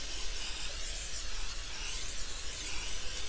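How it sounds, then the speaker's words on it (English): A steady airy hiss of cooking spray onto a baking pan, continuous and close, with no pauses or talking. "So I'm gonna spray with the pan spray."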